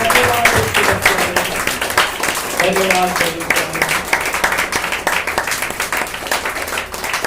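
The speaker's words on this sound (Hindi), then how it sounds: "इसके लिए प्रभु को हम धन्यवाद करेंगे ताली बजाकर" A congregation at a Palm Sunday church service claps, with dense, steady applause filling the room throughout while a voice speaks over it.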